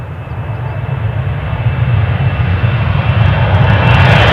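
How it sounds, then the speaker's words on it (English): An airliner departing Newcastle airport for Larnaca roars steadily, its engine noise building louder and closer over several seconds in wet, rainy weather, with no talking. "Here's our Larnaca departure."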